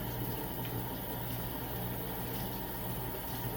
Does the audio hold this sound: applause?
no